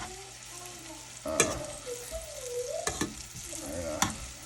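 Food browns in a flour-dusted pan on the stove, giving a soft sizzle broken by a few sharp clinks and scrapes as it is stirred.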